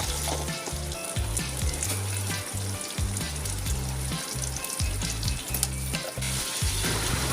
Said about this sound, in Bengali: আলুটা এর সঙ্গে কষিয়ে নিলাম